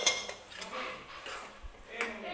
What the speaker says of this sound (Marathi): हे परत एकदा मी मिक्स करून घेते